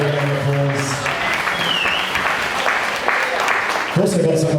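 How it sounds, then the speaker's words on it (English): Wedding guests break into sustained applause in a reception hall, the clapping loud and steady, with a voice speaking at the very start and again as it ends. "Definitely deserves a round of applause."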